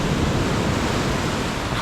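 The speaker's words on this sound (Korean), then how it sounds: "파도 소리 너무 커가지고" Ocean waves break loudly on the shore as a continuous, close roar of surf with no voices over it.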